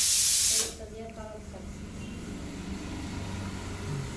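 A kitchen pressure cooker releases a loud burst of hissing steam that cuts off abruptly after half a second, followed by quieter room sound with voices in the background.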